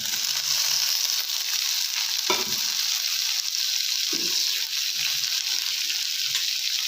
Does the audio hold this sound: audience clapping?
no